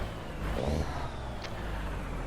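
A Cummins engine drones in a Peterbilt 379 truck in American Truck Simulator, a steady low rumble with a faint rising whine and one brief hissing burst midway.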